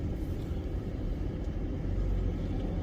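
Low, steady rumble of a bus rolling along a street nearby, heard alone as a continuous engine drone without talk.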